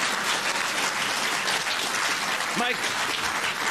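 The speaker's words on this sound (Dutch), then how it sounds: "nu klappen ze niet meer" Full studio audience applause roars steadily during a 1998 Dutch election television interview with a party leader, broad and sustained, with a voice briefly cutting in over the clapping near the end.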